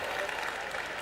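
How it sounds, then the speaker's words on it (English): Distant, steady crowd applause at a Sri Lanka sports fiesta closing ceremony, acknowledging an Air Force drill display; a soft, even wash of clapping with no voices standing out. "can we have a big round of applause for the Sri Lanka Air Force for the drill display?"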